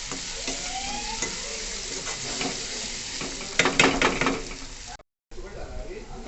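Chicken fries in a pan with cooked tomatoes and turmeric, a continuous close sizzle. Spoon stirring and scraping against the pan grows busier midway, and there is a short cut near the end.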